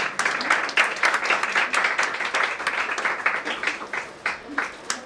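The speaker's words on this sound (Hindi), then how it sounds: "तालियां।" A congregation claps at the grand opening of a church prayer hall in Indore, with uneven, scattered hand claps of moderate loudness and some voices mixed in.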